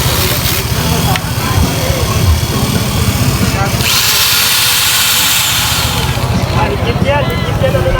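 A power grinder runs loud and continuous at a busy Divisoria market stall in Manila, a steady motor whine with crowd noise and a voice talking beneath it.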